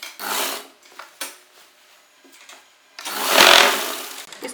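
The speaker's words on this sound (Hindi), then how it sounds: "यहाँ नीचे किनारे सिलाई लगा लीजिए" A sewing machine runs in two bursts, stitching the folded hem of an Afghani salwar, close and fairly loud with a brief pause between runs.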